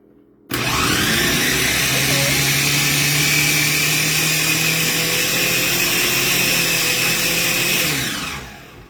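A countertop blender running on a soup puree setting, a loud, steady motor whine that starts abruptly, holds for about seven seconds and then winds down, close by with no talk over it.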